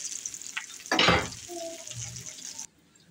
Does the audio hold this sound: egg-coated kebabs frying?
yes